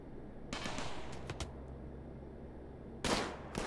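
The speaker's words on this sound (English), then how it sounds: "Someone shooting at Grim with a pistol." Pistol shots ring out in a RimWorld firefight, a few quick crackling bursts at the start and another near the end over a steady background hum.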